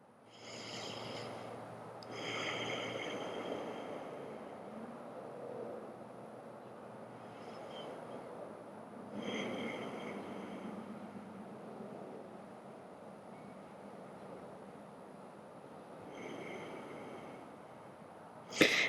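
Slow breathing during a yoga pose with the forehead resting on the hands, several long, quiet, close breaths in and out spaced a few seconds apart, alone with no talk.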